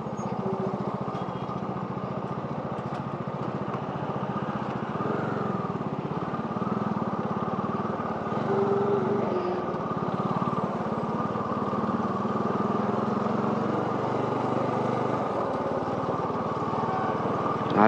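A motorcycle cruises steadily along the Farakka–Raiganj highway at a toll plaza stretch, its engine a continuous mid-pitched drone with rushing wind that holds nearly unchanged for the whole ride.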